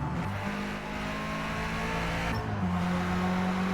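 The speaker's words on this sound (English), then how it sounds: "Keep an ear on that engine sound because it's in the right speaker now" Racing car engine from Forza Motorsport roars steadily at high revs, its pitch shifting as gears change partway through, loud and continuous with no voices over it.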